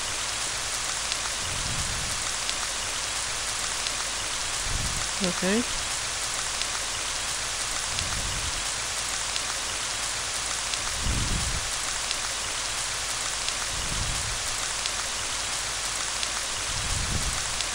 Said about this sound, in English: I thought it started raining in the room.